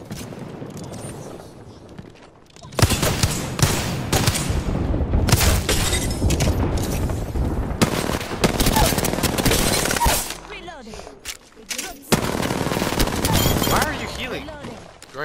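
Sustained automatic gunfire and bursts of shots from an online shooter game roll on loud and dense for most of the stretch, broken by brief lulls, with a player's voice talking over the gunfire.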